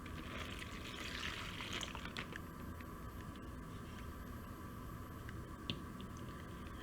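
Salt solution, about 100 ml, pours into a plastic bag holding a faecal sample, a steady close watery trickle and squish of liquid against the bag with no talking.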